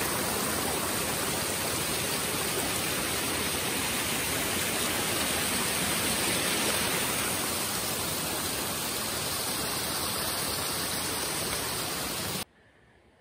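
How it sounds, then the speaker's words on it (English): Mountain creek flowing on a July hike near Tenquille Lake, a steady, full rushing of water close by, continuous and unbroken before cutting off abruptly at the end. "Nice little creek."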